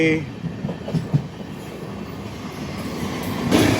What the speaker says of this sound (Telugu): అదిగో గుడ్స్ బండి